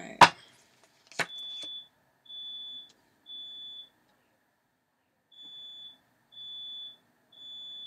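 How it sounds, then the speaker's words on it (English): Indoor smoke alarm beeping in a home, a series of six loud, high, shrill tones of about half a second each at an uneven pace, with two sharp knocks just before the beeping starts. "my fire alarm's going off."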